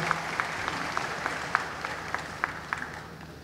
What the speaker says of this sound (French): je vous prie de le féliciter en l'acclamant très très fort